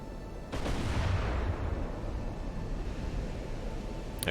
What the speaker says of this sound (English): looks like the 8 inches are opening up